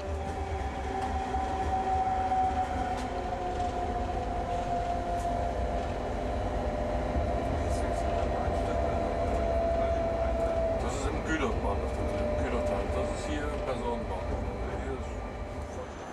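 A freight train rolls slowly into the old house platform of a station at Würzburg, with a continuous low rumble, rattling wagons and a drawn-out wheel squeal that fades midway, fairly loud and sustained throughout.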